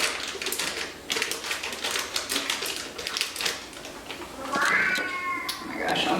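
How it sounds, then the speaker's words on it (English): A cat meows a few times near the end, rising over a steady run of clicking taps from a busy hand task; close and moderately loud. "She's just like nuts right now if you hear that meowing."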